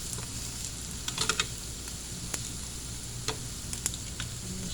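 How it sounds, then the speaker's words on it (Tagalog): Squid frying in a pan, a steady loud sizzle punctuated by sharp pops and crackles scattered irregularly throughout, close up with no talking. "May mata kasi yung squid kaya pumuputok"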